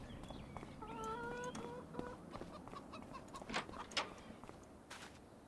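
Chickens clucking on a farm in the video game Farming Simulator 25, a few soft, short clucks and calls over a steady outdoor ambience, moderately faint with no talking.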